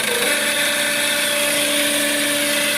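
A Dacia Duster engine idles with a steady, continuous high whine or squeak layered over the running motor as the dipstick is pulled out, the tone holding constant and close.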